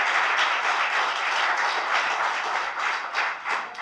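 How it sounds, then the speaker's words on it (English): An audience at a Casper city council meeting applauds in a steady, dense wash of clapping that holds for several seconds and thins slightly toward the end, with no talking over it. "was that applause for me before I spoke?"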